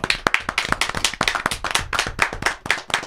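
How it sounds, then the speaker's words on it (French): Close, loud clapping from an audience welcoming a guest on stage, with individual sharp hand claps distinct within a lively, uneven rhythm. "Ça s'arrête pas d'applaudir"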